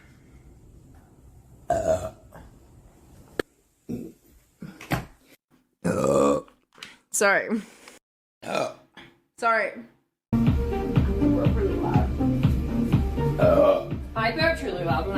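A girl burps several times in short, gurgling bursts separated by pauses, some loud and close, with her voice speaking briefly in between and a louder stretch of talking and belching noise near the end.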